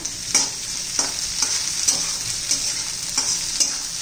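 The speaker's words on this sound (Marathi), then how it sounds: "तर त्याच्यात कांद्याची पात घालून घ्यायची आहे. ती पण जरा परतून घेऊया." Chopped onion and spring onion greens sautéing in a pan, with a loud bright sizzle and rhythmic scraping strokes of a spatula about twice a second, close up.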